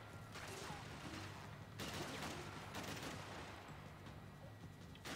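Enemy gunfire in the video game Max Payne 3, heard as several rough bursts of shots with a steady background rumble between them, fairly quiet overall.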